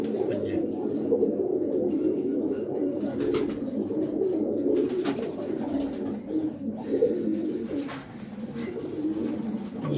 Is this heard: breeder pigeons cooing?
yes